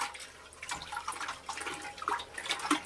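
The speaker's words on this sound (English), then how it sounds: "you're going to stir really well using your dedicated kombucha spoon" Spoon stirring sugar into kombucha liquid, soft sloshing and clinking splashes repeating steadily at close range without speech.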